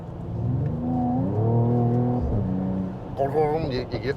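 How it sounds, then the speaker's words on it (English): A 2022 Mercedes-AMG GT53 exhaust drones and rises through a gear change, then falls away. A quick run of crackling pops follows, close and fairly loud. "you get this really good gurgle and a little bit of a pop to it"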